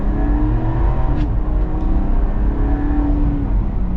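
An Ineos Grenadier SUV accelerates with a steady, droning engine rising slightly in pitch, heard from inside or close by with continuous road and wind noise and no talking.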